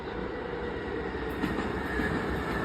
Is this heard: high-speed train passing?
yes